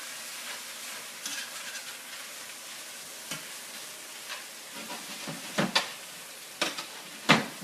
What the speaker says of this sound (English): We're basically doing a nice sauté spinach here.